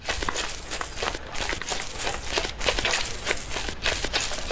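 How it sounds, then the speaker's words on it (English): Footsteps on grass from the Wisplight video game, a skeleton walking with soft, rustling, evenly spaced steps repeating steadily and close. "like walking on grass"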